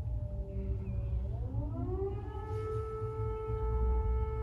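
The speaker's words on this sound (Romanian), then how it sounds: "așa sună sirenele în Kiev" Air raid sirens wail across Kyiv during the Russian invasion of Ukraine, their pitch rising and sustaining in long mournful tones over a low rumble of distant background noise.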